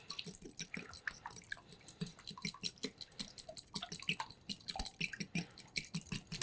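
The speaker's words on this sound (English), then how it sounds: "I'm just gonna beat this up real quick." Whole milk being beaten into French toast batter in a bowl, a quick run of wet, sloshing clicks and taps repeating in an uneven fast rhythm, close and fairly quiet.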